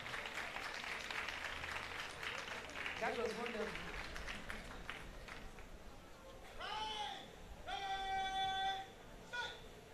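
Crowd applause and general noise at a women's ministry congress fill the first several seconds, followed by a few shrill, wavering calls that sound like whistles or bleats.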